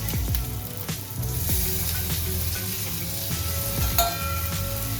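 Rice for chicken dum biryani fries in a pan with a constant close sizzle, punctuated by repeated scraping and stirring knocks.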